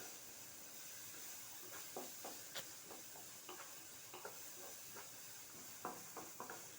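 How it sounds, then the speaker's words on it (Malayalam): Beans cook in oil in a pan as a spoon stirs them, a faint constant sizzle topped by repeated light scraping clacks at an uneven rhythm, close by and without voices. "പിന്നെ ബീൻസ് ഇടാം അടുത്തത്. അത് രണ്ടും നല്ല ഭയങ്കര മിക്സ് ആക്കാം."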